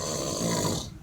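Person snoring: one long, low, rasping inhaled snore, close and fairly loud, fading out near the end with no talk over it.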